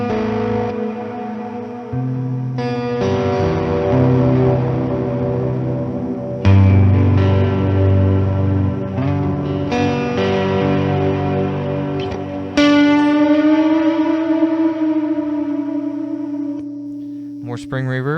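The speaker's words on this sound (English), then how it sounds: "I love the sound of Fuzz with ambient reverb." Electric guitar through a fuzz pedal into a CloudBurst ambient reverb, with spring reverb also on: sustained distorted chords and notes that swell into long washy tails, loud and close, changing every few seconds.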